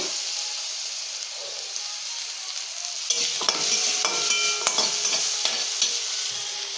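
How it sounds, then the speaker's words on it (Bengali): Pumpkin pieces stir-fried with a little salt in a hot pan: a steady sizzling hiss, then from about three seconds a spatula scraping and stirring through it in irregular close strokes. "ভালো করে নেড়ে চেড়ে ভেজে নেব এটাকেও"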